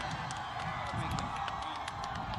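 Audience applause and crowd noise fill a university hall in Sargodha as Imran Khan, chairman of Pakistan Tehreek-e-Insaf, is welcomed; steady, dense clapping with scattered whoops, sustained and fairly loud throughout.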